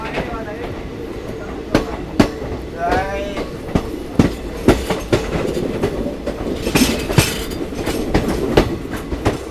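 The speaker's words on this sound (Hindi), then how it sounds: "जगाधरी के प्लेटफॉर्म नंबर 3 से डिपार्ट करते हुए ऑन टाइम अपनी ट्रेन बिल्कुल ऑफिशियल टाइम पर चल रही है" Passenger train rolling out of platform 3 at Jagadhri station toward Lucknow, steady rumble with rhythmic clickety-clack wheel clunks and brief squeals from the rails, with people talking faintly in the background.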